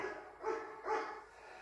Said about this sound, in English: When you hear Kaiser barking